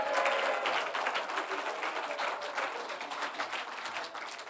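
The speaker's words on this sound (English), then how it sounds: "Round of applause for Pete." An audience at a clean comedy show claps and applauds in a sustained, moderately loud burst of many overlapping hand claps that tapers slightly toward the end.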